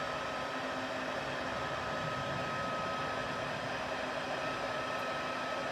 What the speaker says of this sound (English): once that heat tool gets up to temp, it does obviously heat a lot quicker